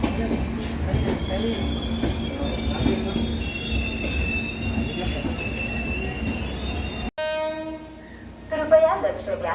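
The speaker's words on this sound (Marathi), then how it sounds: "दिवा गाडी आली, दिवा" Diva–Sawantwadi express train hauled by an electric engine pulls into a station, wheels squealing loudly and steadily with a long horn tone before an abrupt cut to quieter platform sound.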